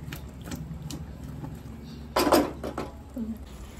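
A cooking pot of pulasa fish curry is shaken up and down to mix in salt, giving metallic rattling and scraping clatter, with a louder burst of jostling partway through, close and alone.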